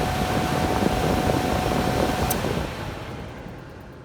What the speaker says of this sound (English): Now the fan just kicked on for the AC speed for the fan.